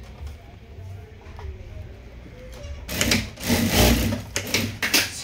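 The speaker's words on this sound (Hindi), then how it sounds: "ये जेक का हेज कटर मशीन है, DLM बोलते हैं इसको। इसमें कपड़ा भी कटता है और साथ में सिलाई भी होती है।" A Jack DLM computerized machine that cuts cloth and sews at the same time starts up with a loud, rapid mechanical whirring after quieter workshop background, with a voice speaking early on.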